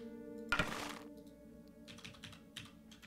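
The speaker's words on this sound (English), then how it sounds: "I guess we just spam on the keyboard until it works" Computer keyboard keys spammed rapidly during a game of Oblivion, a sharp burst of clattering taps followed by scattered lighter keystrokes over a steady tonal game hum.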